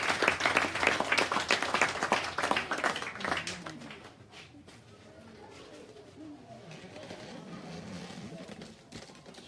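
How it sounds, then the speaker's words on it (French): A church audience applauds loudly, a dense burst of clapping that fades after about four seconds into quieter murmuring voices and room noise. "Applaudissez très fort pour Valentin."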